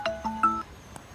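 Mobile phone ringtone of an incoming call, a short melodic sequence of three or four bright electronic tones, close and clear, with no talking.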